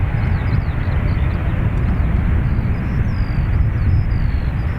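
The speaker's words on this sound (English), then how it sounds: "Ryanair 3 Yankee Yankee, wind check 28 degrees 7, runway 28 right, cleared for takeoff" Ryanair airliner taking off from runway 28 right at Dublin Airport: a steady, loud broadband jet roar with deep low rumble and faint high whine, held throughout without pause.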